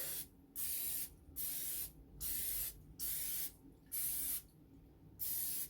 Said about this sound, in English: I'm going to spray it with some of this butter spray, butter flavored spray, so that they don't stick.